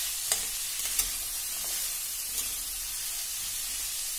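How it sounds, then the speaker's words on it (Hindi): Fresh peas stir-fried over high heat in a pan, a steady soft sizzle and hiss with a few faint clicks of stirring, quiet and close, with no talking. "इसको भी थोड़ा सा भून लेंगे।"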